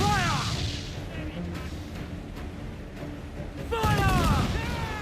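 Naval cannon fire in Assassin's Creed Black Flag, a dense, noisy barrage of deep booms rolling on through the sea battle, with shouting voices and harmonic cries rising at the start and again near the end.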